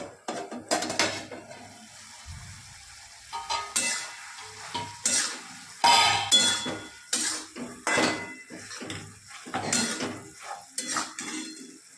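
Cauliflower is stirred in a cooking pan, with a spoon scraping and clanking against the metal in irregular bursts over a faint, soft sizzle, close and fairly quiet.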